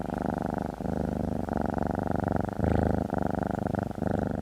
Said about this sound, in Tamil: பர்ரிங் சவுண்டு கேட்டிருக்கீங்களா?